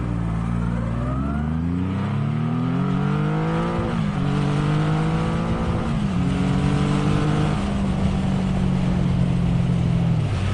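A Triumph Rocket 3 GT motorcycle accelerates hard, its engine note climbing in rising sweeps and dipping briefly at each change, loud and close with wind noise underneath.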